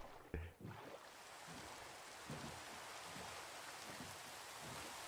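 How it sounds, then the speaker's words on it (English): Steady rainfall in Minecraft while a boat sits out on the water, a soft, even hiss that continues throughout after a brief thump near the start. "Perfect timing, rain."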